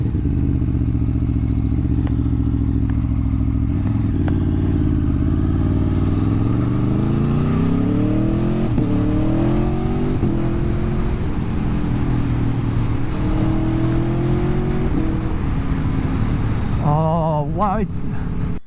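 A 2020 Aprilia Tuono V4 1100 Factory motorcycle engine runs loud and close, its pitch swinging up through several revs and settling back, with a mechanical clatter near the end.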